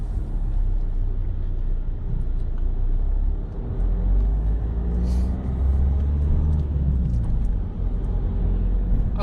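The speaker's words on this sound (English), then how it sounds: "lights were on red and now they're on green, and so the traffic's moving on again now" Road traffic pulling away from a pedestrian crossing as the lights turn green, heard from inside a car: steady low engine rumble and tyre noise with passing vehicles, continuous and fairly loud, no talking.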